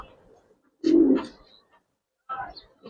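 A fancy colored pigeon, a male, gives two short, low coos close by in a quiet space, separated by a pause of about a second.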